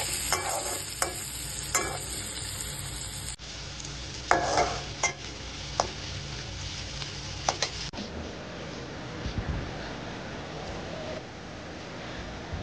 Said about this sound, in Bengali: গরম তেলে আমরা রসুন এবং পেঁয়াজ কুচি দিয়ে দিব, দিয়ে সেটাকে আমরা কিছুটা ব্রাউন কালার করে ভেজে।